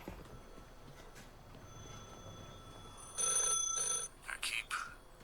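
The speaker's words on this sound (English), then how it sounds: "Got the phone ringing upstairs." A telephone rings upstairs indoors, faint and muffled, with a couple of short ring bursts near the end over a low room hiss.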